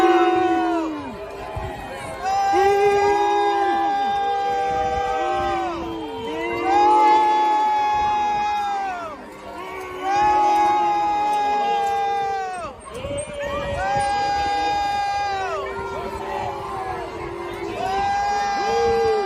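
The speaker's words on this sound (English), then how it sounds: "the crowd gives them the reaction they deserve" A St. Patrick's Day parade crowd in Chicago shouts and jeers at passing politicians in rising and falling waves of yelling and whoops, with some higher-pitched cries, fairly loud and continuous.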